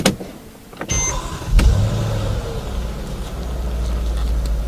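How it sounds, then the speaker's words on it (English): A Mercedes GL450's door thuds shut and a few clicks follow, then its engine idles with a low, steady hum close by, ABS warning light on. "So as you can hear, the engine is running"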